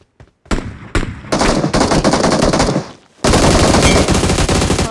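Machine guns in a video game fire in long, loud continuous bursts, a short stutter of shots at first, then a sustained rattle, a brief pause and another heavy stream of gunfire.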